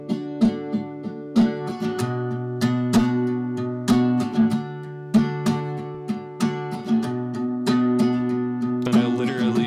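Acoustic guitar processed through a convolution reverb loaded with a snare drum sample as its impulse response, giving bright rhythmic strums with sustained ringing chords and a close, roomy tail.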